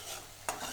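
Salted water for Kerala-style mango pickle bubbles quietly in a pan, a faint continuous simmer with a single brief clink partway through.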